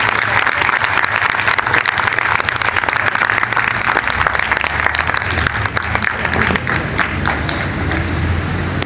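Audience at a school and college event breaking into loud, sustained applause, dense clapping close and continuous for the whole stretch, tapering slightly near the end.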